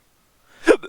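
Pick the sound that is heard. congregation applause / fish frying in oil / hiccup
hiccup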